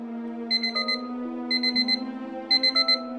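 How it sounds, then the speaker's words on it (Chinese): An electronic alarm clock rings in a hotel room in Taichung, with three bursts of rapid, bright beeps about a second apart. The beeps are loud and close over steady background tones. "接着她撑到闹钟响起"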